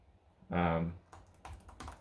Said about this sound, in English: Typing feels pretty good and accurate.